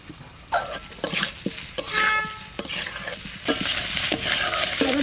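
Potatoes sizzling and frying in a pan with ghurisha fish, with repeated sharp stirring scrapes and clatters of a spatula over a steady hiss of hot oil, close and alone with no talk.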